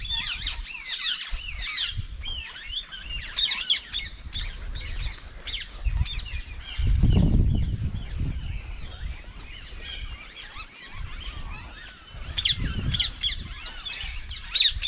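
Cockatiels call with many shrill chirps and squawks in a large eight-metre aviary while the flock flies, with low rumbling wingbeats and movement surging at intervals beneath the continuous chatter.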